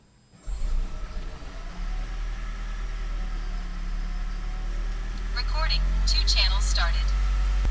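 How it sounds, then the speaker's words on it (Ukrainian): A Toyota Prius engine starts and then idles with a steady low rumble that swells slightly louder; someone talks briefly over it near the end. "Ну що, двигун працює"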